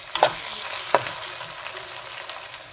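Blended ginger and garlic sizzle and fry in a hot pan, a close crackling hiss broken by a few sharp scrapes and clinks of stirring.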